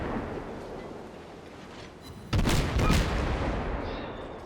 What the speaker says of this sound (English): I also open fire before I'm in any range to be spotted